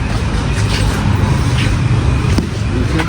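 A car arrives close by, with a loud, steady engine rumble and road noise filling the whole moment.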